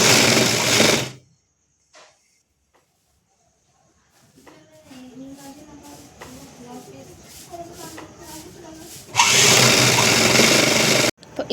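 Sewing machine stitching two fabric pieces together for a baby frock: loud bursts of fast mechanical whirring at the start and end, with a voice talking in the quieter middle section.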